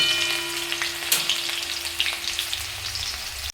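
Cut potatoes go into onions that are already frying in a pan until reddish. A bright, steady sizzle follows, with a few sharp stirring clicks before it cuts off abruptly. No one speaks.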